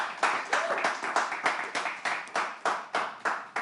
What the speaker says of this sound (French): On applaudit Nazir, s'il vous plaît.